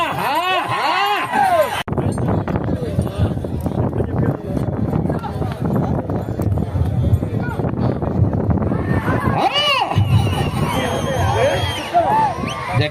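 A crowd at a bullock cart race in Andhra Pradesh shouts loudly and continuously, a dense roar of cheering and yelling with an announcer's amplified voice cutting in and out over it.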